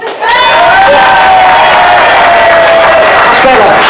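A pub audience at a brewery gig claps and cheers for the MC: loud, dense and sustained, with shouts and whoops rising over steady applause.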